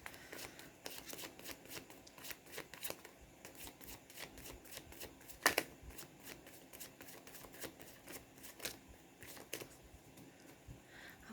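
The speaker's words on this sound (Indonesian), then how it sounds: "saya baca doa dan saya kocok kartu" Tarot cards are shuffled by hand in quick, crisp riffles, a fast train of sharp papery clicks repeated in bursts over several seconds. It is close and fairly quiet, with no voice.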